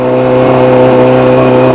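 A Suzuki GSX-R motorcycle engine idles with the choke on, a loud, steady, close-up hum with strong even harmonics and no talk.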